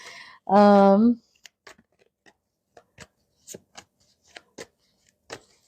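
Tarot cards are shuffled in soft, scattered riffles and flicks after one brief loud vocal sound, each card snap short and close at an uneven pace.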